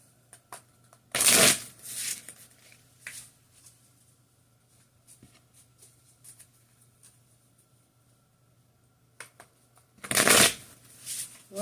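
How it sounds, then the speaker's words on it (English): A tarot deck being shuffled gives two sharp, close riffling bursts at the start and near the end, with soft card handling and light taps in the quieter middle and a low constant hum beneath. "I heard 6, so we're shuffling 3 more times"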